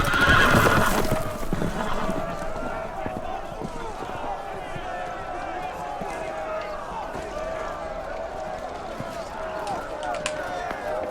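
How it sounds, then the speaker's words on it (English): Horses in Game of Thrones whinny loudly amid a jumble of hoofbeats and commotion, with a shrill neigh at the start and busy trampling continuing underneath. "The horses! They're loose!"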